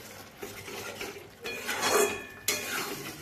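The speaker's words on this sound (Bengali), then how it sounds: "আমি বেশ ভালোভাবে মশলাটিকে এইভাবে কষিয়ে নিচ্ছি।" Masala for a fish roe curry stirred in a pan over medium heat: soft scraping and a few light metallic knocks, with only a faint sizzle underneath, close by and fairly quiet.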